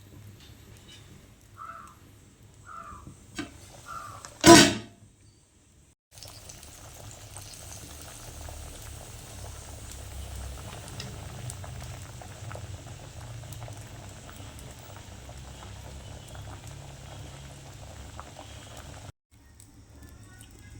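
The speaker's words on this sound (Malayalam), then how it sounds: "കറി നല്ലോണം ഒന്ന് തിളക്കട്ടെ" Mango pulissery curry boils in a pot in a village kitchen, a close, steady bubbling and gurgling that runs for most of the stretch after a short sharp clatter, with faint bird calls before it.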